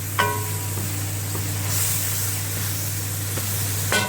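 Masala with red pepper, turmeric and tomatoes frying in a pan, a soft continuous sizzle and hiss over a low steady hum, with a few light clinks of a utensil.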